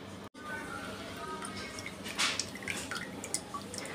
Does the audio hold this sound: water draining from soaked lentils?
yes